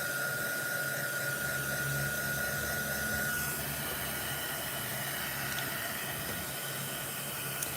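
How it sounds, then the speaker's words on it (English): A steady, loud blowing hiss of a heat gun drying alcohol ink on a card, running continuously close by, with a faint whine that drops away partway through. "I'm going to grab my heat gun really quickly"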